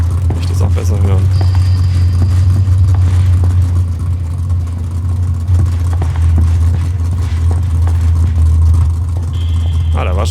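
A car engine idles in a PUBG-style survival shooter, a steady low rumble running throughout while a player talks over it.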